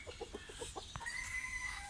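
A young chicken clucks several times in quick, short bursts, close by on a farm with ducks and chicks, followed by a thin higher call. There is no speech.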